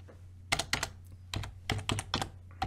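Code being typed on a computer keyboard, several quick bursts of close, crisp key clicks separated by short pauses, loud against a quiet background hum.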